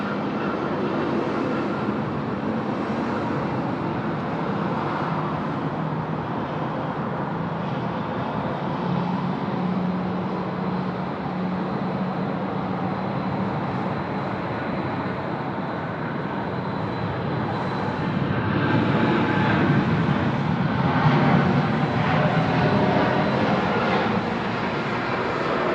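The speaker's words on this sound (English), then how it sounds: "Should be a lean takeoff roll, this one." An airliner's takeoff roll on runway 16 right at Sydney Airport, a steady broad jet engine roar held for the whole stretch and swelling louder toward the end, heard from a distance.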